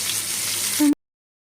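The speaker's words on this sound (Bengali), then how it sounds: "মাছ ভাজতেছি, মাছ ভেজে বেগুনের তরকারিতে দিয়ে দেবো।" Fish frying in a pan for an eggplant curry, a short burst of close, steady sizzling hiss that cuts off abruptly after about one second.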